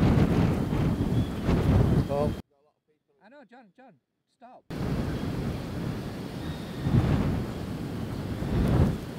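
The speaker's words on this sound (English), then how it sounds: "Wind's picking up now." Strong gusting wind buffets the microphone while a DJI Avata drone flies low over woods, a loud roaring rush broken by a brief quiet gap before the gusts resume.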